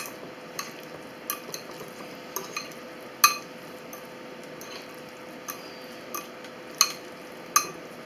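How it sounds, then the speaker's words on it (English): Spoon stirring mayonnaise into a tuna dip in a bowl, giving soft scraping with scattered light clinks against the dish, steady and close, with no talking. "Mix that up a little bit in there."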